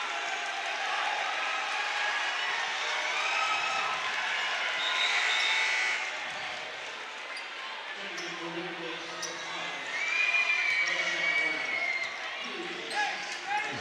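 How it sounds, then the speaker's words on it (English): Crowd roars and cheers fill a high school varsity basketball gym during a Winton Woods vs Colerain boys' game, a dense, steady swell of noise that rises and falls, with voices talking over it. "Not sure what that cheer from the crowd was for."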